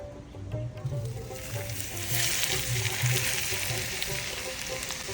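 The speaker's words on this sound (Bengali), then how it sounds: "এবার আমি গরম তেলটা এর মতো দিয়ে দেবো" Hot oil poured over chilli powder, sugar and salt for a Chinese-style potato dish: a soft hiss that swells into a steady bright sizzle, close and continuous, with faint background hum.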